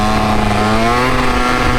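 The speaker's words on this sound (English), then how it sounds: "Here we have a racer with the car" A racer's car engine drones loud and close in a steady, buzzy roar with slowly shifting harmonics, likely heard from a small scooter riding nearby, with no speech.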